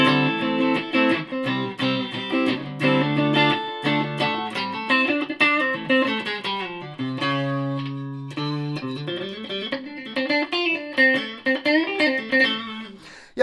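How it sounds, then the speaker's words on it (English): Electric guitar played through a multi-effects pedal set mainly for reverb, single notes and chords ringing out in shifting phrases with a lingering tail, heard alone. "Yep, so basically just about reverb."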